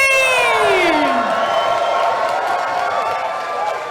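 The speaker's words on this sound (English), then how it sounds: "let's have a huge round of applause" Loud crowd at a chessboxing event cheering, whooping and applauding after a technical knockout win, a dense sustained roar with rising shouts and whistles throughout.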